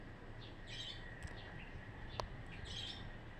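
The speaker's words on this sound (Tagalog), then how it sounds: "huni ng ibon lang maririnig mo at mga sasakyan" Quiet outdoor ambience with faint bird chirps at a distance, a few brief calls scattered over a low steady hum.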